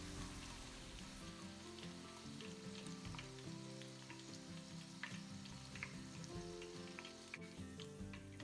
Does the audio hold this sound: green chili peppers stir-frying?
yes